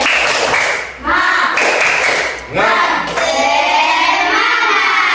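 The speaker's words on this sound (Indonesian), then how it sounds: "mari kita tepuk semangat dulu" A group claps in a quick rhythmic pattern, loud and close, with shouted voices joining in between the bursts of clapping.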